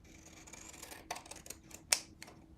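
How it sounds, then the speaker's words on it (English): Scissors or shears make a few quick, sharp snips at close range in a craft studio, with one brighter cut standing out among faint rustling. "where are my good scissors? My shears."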